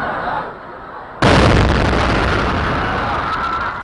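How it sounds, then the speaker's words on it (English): A bomb goes off at the Boston Marathon finish line: murmuring crowd noise is cut by one sudden, very loud blast, then a sustained roaring rumble and commotion. "The deadly explosions at the Boston Marathon were the worst bombings in the U.S."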